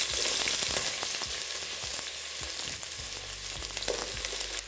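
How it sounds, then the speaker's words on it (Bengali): Three medium sliced onions fry in hot mustard oil for chicken khichdi, making a loud, dense, continuous sizzle close by. Scattered soft clicks and stirring knocks run underneath throughout. "আর এটা আপনাদের ততক্ষণ ভেজে নিতে হবে যতক্ষণ না পেঁয়াজটা একদম লাল লাল হয়ে ভাজা হয়ে যাচ্ছে"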